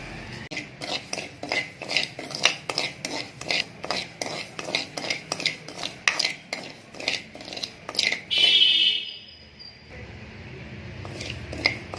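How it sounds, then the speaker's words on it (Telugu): Finger millet is dry-roasted in a pan with no oil while a spoon scrapes and clinks against the metal in a quick, steady rhythm. The stirring is close and busy, then stops, and a soft hiss remains. "రాగులను ముందు వేపుకోండి"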